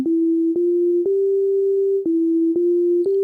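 A plain Sonic Pi synthesized melody of pure, beep-like tones, each note starting with a soft click at a steady pulse of about two per second, with no other sounds.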